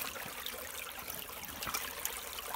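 River water trickles and flows through a handmade sluice at a creek gully, a steady close-up rush and dribble with no talk.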